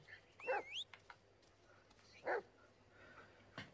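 A dog in the Blair Witch video game gives a couple of short, distant barks and yips, separated by quiet stretches, over a low, faint ambient hum.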